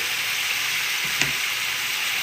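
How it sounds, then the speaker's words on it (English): Beef searing in a hot pan gives a steady, loud sizzle with a brief clink or stir partway through, heard alone. "So the searing allows it to kind of keep its shape."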